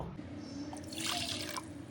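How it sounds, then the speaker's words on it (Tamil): Water from a glass pours into a rasam pot at home, a brief splashing trickle that swells near the middle and runs steadily for about two seconds, fairly close and moderately quiet. "1 கிளாஸ் தண்ணி விட்டுங்கோ."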